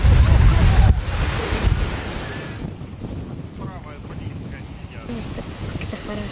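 Sea waves wash onto a shore beside a forest and stream, heard fairly loud at first and then settling into a steady surf, with wind buffeting the microphone and a voice briefly audible.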